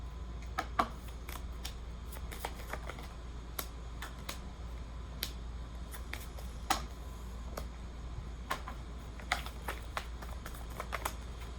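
Tarot cards are shuffled and riffled close by, a quiet irregular run of soft flicks and snaps with no talking.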